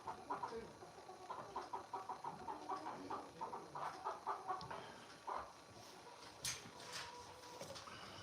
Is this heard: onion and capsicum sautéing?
no